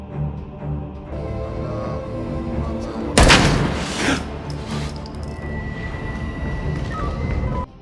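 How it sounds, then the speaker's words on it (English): Gunfire in a film shootout where police fight police: a sudden loud burst of shots and booming impacts in the middle, set against a steady music and ambience bed. "Another shootout ensues."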